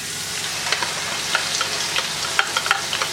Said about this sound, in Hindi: तो देख लें अच्छी तरह आपने प्याज को यहाँ पर फ्राई कर लिया।